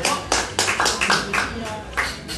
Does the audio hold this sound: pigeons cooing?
no